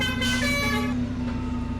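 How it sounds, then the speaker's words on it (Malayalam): A bus horn blares loudly and steadily for about a second, then fades into the rumble of the bus's nearby idling engine. "ബസ്സിൽ നിന്ന് ഹോണടി ഉയർന്ന നിമിഷത്തിൽ"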